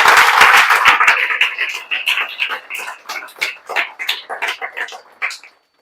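An audience claps heartily for three students who qualified for the IIT JEE Advanced exam. Dense clapping starts loud, thins into scattered claps and fades out within a few seconds.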